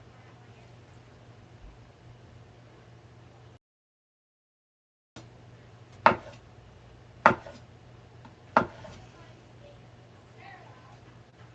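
Knife chopping food in a home kitchen, three distinct, fairly close chops spaced about a second apart over a low steady hum, after a brief silent gap.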